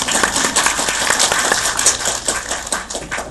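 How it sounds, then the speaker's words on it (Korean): An audience at a film screening talk applauds the interpreter: a dense, continuous patter of many hands clapping together, loud and fairly near, holding steady throughout with no one speaking. "자, 우리 통역에게 박수 한번 부탁드립니다."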